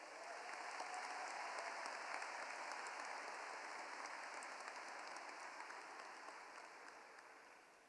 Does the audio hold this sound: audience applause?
yes